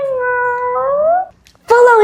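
A human voice imitates a cat's meow: a long, drawn-out meow rising at the end, a short pause, then a second, louder meow starting abruptly.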